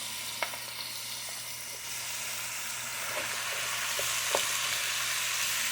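Ground beef frying in a pan, a steady close sizzle that swells slightly, with a few faint clicks and taps of a utensil against the pan.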